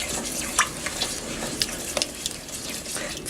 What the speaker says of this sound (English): And we want to give this a good mix